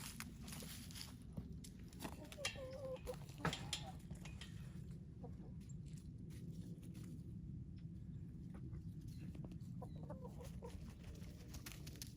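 Hens cluck softly in short, scattered bursts over a low rumble, with footsteps and faint shuffling nearby.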